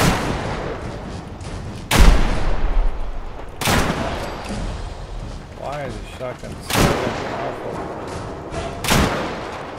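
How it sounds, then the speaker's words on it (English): Heavy shotgun blasts from Fallout 4 combat, four loud sharp reports spaced a couple of seconds apart over game noise, with a voice speaking briefly between shots. "the shotgun is way too strong"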